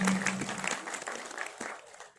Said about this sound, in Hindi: एक बार अपने लिए और इनके लिए जोरदार तालियां बजा दीजिए